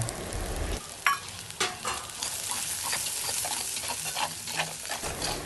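Spices, ginger-garlic paste, chilli powder, turmeric and salt stirred in oil in a frying pan, giving a steady close sizzle with scraping spoon strokes and occasional sharper clacks throughout.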